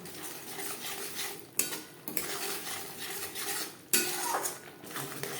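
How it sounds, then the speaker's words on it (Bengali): Spices being stirred and fried in a pan on low to medium flame for doi ilish, a soft sizzle under repeated metal utensil scrapes and clinks against the pan. "চার পাঁচ মিনিট লো টু মিডিয়াম ফ্লেমে মশলা বেশ ভালো করে কষিয়ে নেব"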